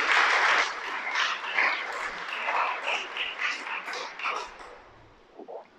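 A church congregation applauds during a Sabbath sermon, a steady, moderately loud clatter of many hands that gradually thins and fades toward the end.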